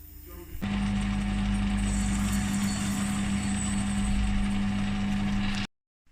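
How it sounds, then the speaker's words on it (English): A lathe turns slowly while parting off welds on a propshaft, producing a steady loud machine hum with a strong tonal drone that starts abruptly and cuts off sharply near the end. "Turn it slowly and part off these welds, and then I'll be able to remove this."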